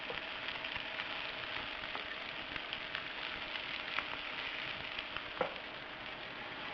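Lamb chops seasoned with salt and pepper fry in a pan, giving a steady, even sizzle that crackles continuously up close, with a couple of brief pops and no talking.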